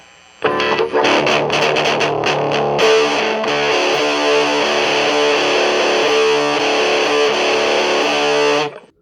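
A loud, heavily driven electric guitar through an Orange Crush Mini amp at maximum volume plays sustained chords and riffs, dense and saturated throughout, ringing out then cutting off.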